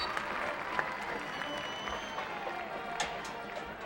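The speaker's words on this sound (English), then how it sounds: "please join me in a round of applause for Kimberly Armstrong, this week's SEC Academic Student of the Week" A stadium crowd at a high school football game between Weslaco and Edinburg applauds steadily on parents' night, a broad distant wash of clapping with faint voices mixed in.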